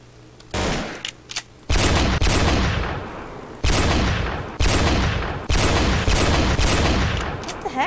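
Gunfire rattles in the Roblox Black Ops 3 Tycoon video game, with about six loud, close bursts of rapid shots separated by short pauses, each burst trailing off before the next begins.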